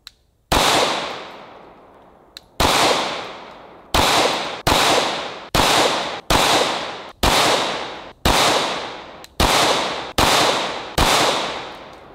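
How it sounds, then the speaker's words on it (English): Nail gun shots fired repeatedly into a padlock, about ten sharp loud cracks at a fairly steady rhythm, each one ringing off with a metallic decay before the next. "I've pretty much lost count on how many rounds we've put into this thing, but holy crap, does that make the nail gun even more impressive."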